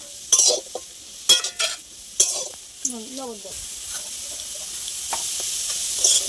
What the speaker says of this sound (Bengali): এই কালো জিরে আমি ভেজে নেব। শাক দিয়ে দিলাম